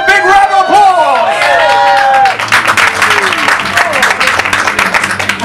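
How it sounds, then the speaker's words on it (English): Audience applause at a Brighton festival event follows a voice over a microphone, building into dense clapping mixed with crowd murmur and some cheering, fairly loud and close. "Give her a big round of applause"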